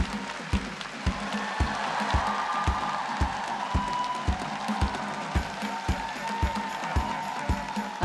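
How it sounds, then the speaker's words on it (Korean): An audience at a parenting talk concert claps to welcome a professor onto the stage, with strong claps landing in a steady even beat over a softer wash of applause and a faint murmur of voices. "큰 박수로 맞이해 주시기 바랍니다"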